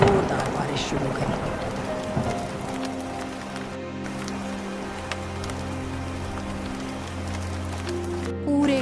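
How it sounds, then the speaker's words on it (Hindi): Heavy rain pours down in a steady dense patter, with sustained low tones of thunder humming underneath throughout. "तभी अचानक आसमान में काले बादल छा गए। गरज बरस के साथ जोरदार बारिश शुरू हुई।"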